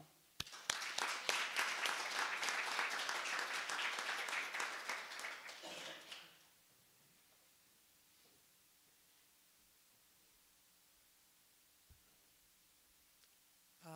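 Congregation at a Sunday church service applauding to welcome a speaker, a dense burst of many hands clapping for about six seconds that then fades into quiet room tone with faint rustling.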